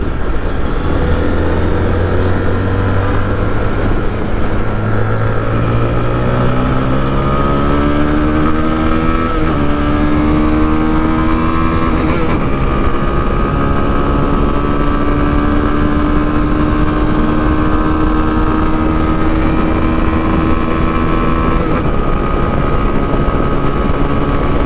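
A Zontes motorcycle accelerates hard toward top speed, its engine note climbing steadily through the gears with loud, continuous road and wind noise throughout, close to the rider and with no talking.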